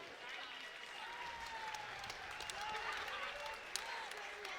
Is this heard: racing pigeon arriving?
no